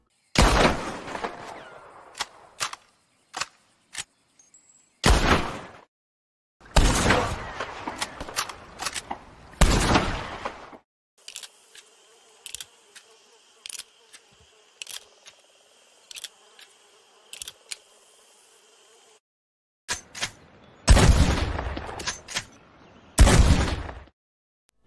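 Weapons firing in Red Dead Redemption 2, among them a bolt-action rifle: loud, sharp gunshot bursts in irregular clusters with short ringing tails, plus a sustained buzzing passage in the middle and no talk.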